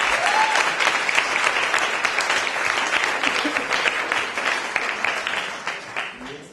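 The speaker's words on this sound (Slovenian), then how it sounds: "Velik aplavz za njo" Sustained applause from an audience honoring a group's language teacher at a year-end event in 2019, dense steady clapping filling the whole stretch, fairly loud and close, tapering slightly at the end.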